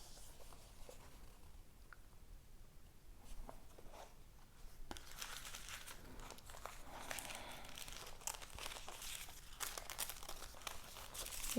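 Packaging around a Hermès City 3CC colorblock card holder is handled and unwrapped. Quiet rustles come first, then denser, louder crinkling and tearing from about the midpoint onward, close and with no talking.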